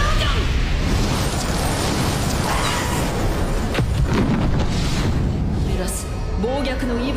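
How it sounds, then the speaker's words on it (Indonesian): A huge volcanic explosion spell from an anime fight sweeps across a graveyard, a continuous roaring blast with crackling bursts and a sharp hit near the middle, while a voice talks over it. "menerjangkan ledakan vulkano dahsyat yang menyapu seluruh area pemakaman"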